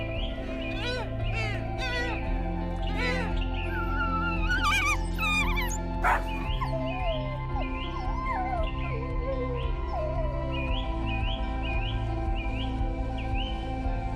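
A pack of African wild dogs calling in the savanna, with bursts of high, bird-like chirps and twittering yelps scattered over a steady low background hum.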